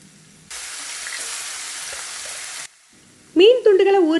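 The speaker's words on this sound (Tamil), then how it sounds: "மீன் துண்டுகள் மிதமான தீயில ஃப்ரை ஆகட்டும்." Fish pieces shallow-fry in oil over a moderate flame with a steady, bright sizzle that runs for about two seconds and then cuts off, followed by someone speaking.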